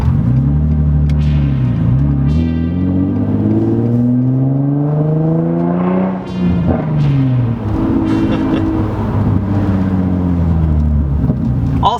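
An Infiniti G35 fitted with a budget aftermarket exhaust revs up and down repeatedly, its loud, droning engine note rising and falling in pitch throughout, close and continuous with no talking.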